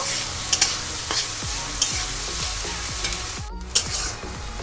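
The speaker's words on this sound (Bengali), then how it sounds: "পেঁয়াজটাকে নরম করে ভেজে নেব" Chopped onions and potato sizzle in a pan while being stir-fried, with a constant hiss of frying broken by repeated scraping and knocking strokes of a spatula, and no speech.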